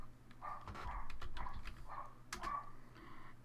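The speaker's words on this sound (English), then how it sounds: "I can hear your... dog, I think, in the background." A dog barks faintly downstairs in a house, a few distant, muffled woofs under quiet room noise.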